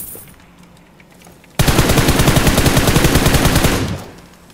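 Gunfire in a shooting video game, where a sniper rifle is in use: a quiet lead-in, then an abrupt, dense burst of rapid loud shots lasting over two seconds before fading, with no talking.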